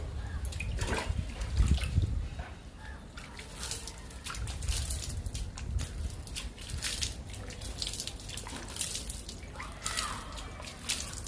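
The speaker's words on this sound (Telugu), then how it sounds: "ఇలా నీళ్ళు చల్లడం వల్ల చాలా బాగుంటాయి ఫ్రెష్గా" Water is sprayed over indoor plants, a faint, steady hiss of fine droplets with scattered patters and drips, close by and alone.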